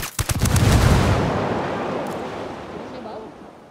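Gunfire in the Ghost Recon video game, a loud close burst of rapid shots followed by a long rumbling echo that slowly fades out.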